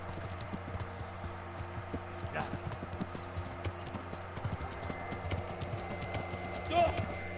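Horse hooves clip-clop in a steady walking rhythm in the medieval game Kingdom Come: Deliverance, fairly close and moderate in level, with a brief snort or whinny near the end.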